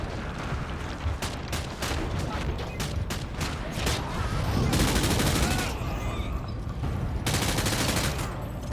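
Rapid bursts of gunfire in the video game Call of Duty: Modern Warfare 2 crackle and rattle almost continuously, loud and dense, with automatic fire overlapping heavier blasts and a voice underneath.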